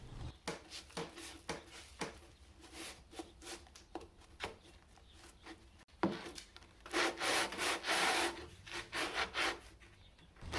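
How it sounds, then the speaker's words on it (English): Rhythmic scratchy rasping of wood rubbed back and forth on sandpaper, strokes coming in quick bursts, growing louder and denser in the second half. "I find this is a pretty good way to have good control of the pieces while sanding them"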